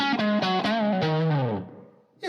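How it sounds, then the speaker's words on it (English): An electric guitar plays a few plucked notes and a sustained chord with light overdrive and a modest reverb tail, fading out before a new note starts. "So we've gone from having phaser, overdrive, delay, and reverb to just having a little bit of overdrive and a bit less reverb than we had before."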